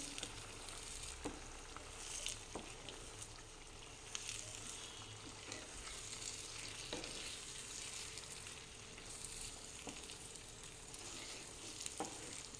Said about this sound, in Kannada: ಮೊಟ್ಟೆ ಹಾಕ್ತಾಯಿದ್ದೀನಿ ಸ್ವಲ್ಪ ಹೀಗೆ ಮಿಕ್ಸ್ ಮಾಡ್ಕೋಬೇಕು